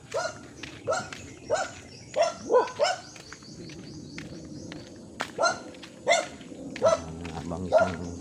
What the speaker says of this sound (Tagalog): Abang isang aso dito.